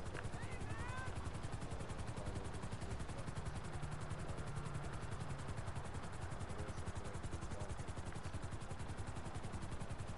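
Helicopter from the video game GTA 5 Online, a faint, continuous rotor whir and engine hum, steady and unbroken for the whole stretch.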